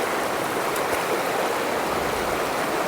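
A rushing mountain stream in the Lairig Ghru valley in the Cairngorms, Scotland, makes a dense, steady wash of water noise, close and continuous, with no voices.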